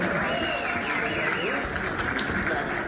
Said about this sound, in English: a round of applause for Paula.